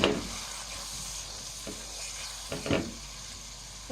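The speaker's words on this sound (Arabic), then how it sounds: "بعد ما حمرت التومه مع البصله وكل حاجه، وحطيت التوابل وحاطه السمنه والزيت وكل حاجه" Garlic and onion fry in ghee and oil with spices, a low steady sizzle broken by a few stirring scrapes and clatters from the pan, quiet and close.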